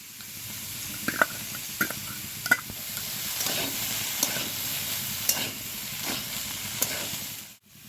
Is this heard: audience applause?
no